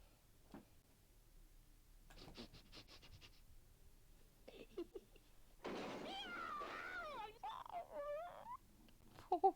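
A cat in a British public information film yowls and wails in distress after a few thumps and scratches, the cries rising loudly near the end amid faint background sound.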